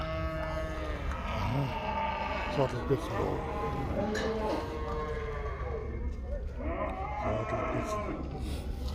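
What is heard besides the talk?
cattle mooing at Shymkent cattle market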